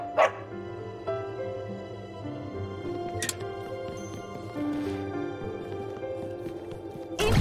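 A dog barks a few times in Psychonauts 2, sharp yaps near the start and end over a steady in-game music bed.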